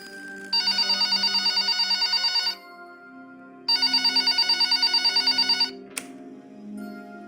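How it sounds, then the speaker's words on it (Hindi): A telephone rings in two long electronic bursts separated by a pause, loud and close, with a faint click after the second ring. "तभी फिर से कमरे में रखे फोन पर कॉल आया।"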